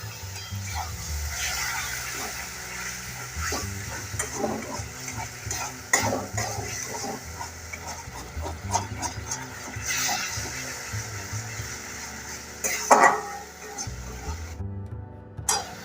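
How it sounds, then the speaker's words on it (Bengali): Spice paste sautéed with splashes of potato-boiling water in a pan for lentil kachori filling, with repeated scraping stir strokes over a soft sizzle, close and moderately quiet. "অল্প অল্প জল দিয়ে মশলাটা ভালো করে কষাবো।"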